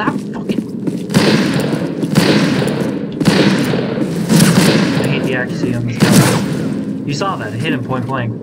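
Repeated loud gunshots ring out in the western shooter game Fistful of Frags, several sharp bangs spaced a second or so apart, with someone talking over and between them.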